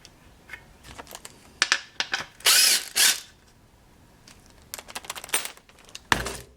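Short bursts of an impact wrench rattling a tight bolt loose on a 1957 Chevy during radiator mounting, loud hammering rattles around the middle and again near the end, separated by quiet clicks and handling noises.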